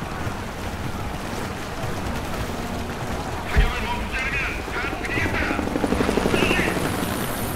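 A helicopter in the video game Rise of the Tomb Raider drones and rumbles steadily in the background, mixed with wind- and water-like ambience, while a player talks over it.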